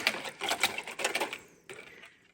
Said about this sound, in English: I'll whisk that together.